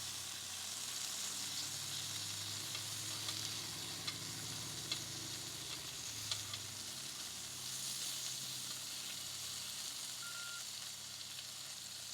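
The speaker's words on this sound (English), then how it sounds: "Get a little bit of sear on the bacon." Bacon-wrapped filet mignon sears on a Ninja Woodfire Grill, a quiet steady sizzle with faint pops lasting throughout, plus a low hum and a few soft clicks.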